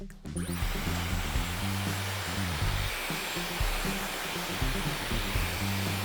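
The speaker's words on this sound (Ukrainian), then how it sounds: "Беремо фен, трошки підсушуємо це пасмо." A hair dryer blows with a steady, loud whir that runs continuously, its hum wavering slightly as it moves.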